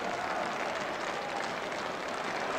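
A football crowd at a 1984/85 Charlton Athletic v Birmingham City match applauds after a Charlton win, a steady wash of clapping and crowd noise heard from a distance.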